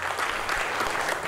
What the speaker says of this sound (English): May I request all of you to give him a big round of applause.